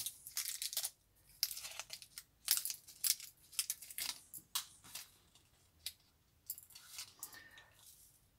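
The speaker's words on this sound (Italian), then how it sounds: "Apriamo il nostro sacchetto" Crinkling and rustling of a small plastic bag of screws from a Siai Marchetti S.79 model aircraft kit being opened, in sharp irregular bursts with brief pauses between them, close by.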